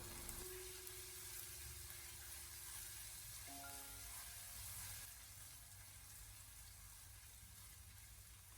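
Pork belly with ginger, scallion and garlic stir-fried in hot oil over low heat, giving a steady close sizzle with a brief metallic clink partway through, no voices.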